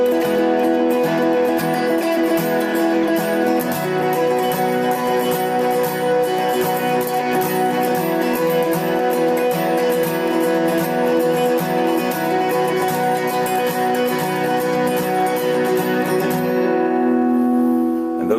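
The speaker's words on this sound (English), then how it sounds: "we have these high power chords" Electric guitar ringing out sustained high power chords from a song intro, a dense, steady wall of distorted tone lasting throughout before cutting off near the end, with no talking.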